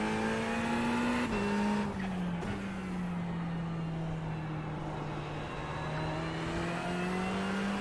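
A race car pulls out of the pits at Fuji International Speedway in a sim racing game, its engine droning steadily with a slowly shifting pitch and gear changes, loud and continuous.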